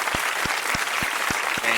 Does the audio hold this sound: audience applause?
yes